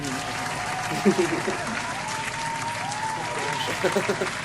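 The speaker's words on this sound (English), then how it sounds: "an applause sound effect" A recorded applause sound effect plays as a continuous bed of crowd clapping at moderate level, with people talking over it throughout.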